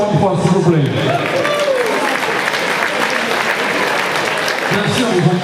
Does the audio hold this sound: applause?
yes